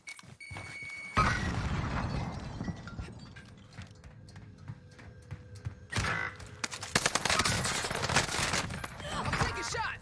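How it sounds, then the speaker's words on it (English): Frag grenade blast and bursts of gunfire in the Warzone video game, a sudden loud boom followed by dense, rapid shots and another heavy explosion, with a faint voice in the background. "Frag out."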